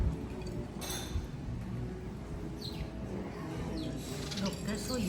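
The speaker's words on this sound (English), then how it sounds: "They're just surrounded by birds because they see the food." Birds, including dove-like coos, gather around an outdoor breakfast table in Kapalua, with soft chirps and calls scattered over a steady ambient background and low murmuring voices.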